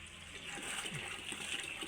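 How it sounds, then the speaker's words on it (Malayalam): Cow dung is stirred into water for a home vegetable garden, a low continuous sloshing and churning of liquid, fairly faint and steady throughout, with no talking. "അമ്മ ചാണകം കലക്കുന്നുണ്ട്."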